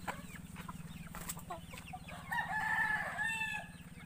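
Native Philippine chickens, including bantams, on a backyard farm: a rooster crows loudly and clearly near the end while hens cluck softly throughout, over a steady low mechanical hum.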